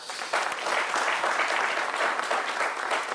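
Sustained studio audience applause at a French TV talk show honoring a guest's fifty-year career, a dense steady wash of many hands clapping at even loudness with no talk over it.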